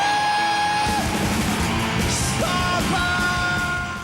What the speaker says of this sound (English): The opening scream isn't just a vocal